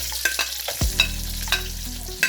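Onion dropped into hot oil in a pan for a beef and onion stir-fry, a sudden burst of sizzling that settles into steady frying hiss, with a few sharp clinks of a utensil against the pan.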